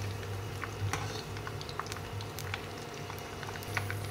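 Oil gently boiling in a pan with pepper, fenugreek and mustard seeds, a steady low bubbling with scattered tiny crackles and pops throughout, close and continuous with no voices.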